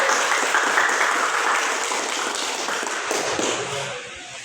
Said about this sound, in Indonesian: Jadi kita beri aplaus untuk kita semua.